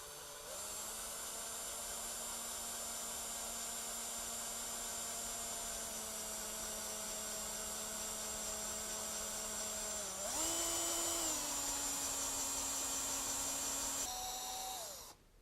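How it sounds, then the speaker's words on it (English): A power drill drilling a pilot hole during a Harley-Davidson oil cooler installation gives a steady high-pitched whine, shifting pitch briefly near the end before stopping; close and loud, no talking. "Now that I've finished drilling the pilot drill hole"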